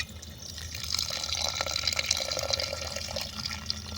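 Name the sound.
water poured into chicken curry pot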